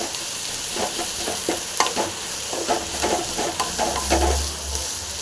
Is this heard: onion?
yes